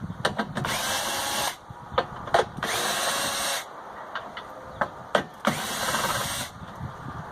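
A power drill with a socket adapter whirs in several short bursts and two longer runs, removing bolts from a lawn mower that won't start, with clicks and clunks of metal between them, close by.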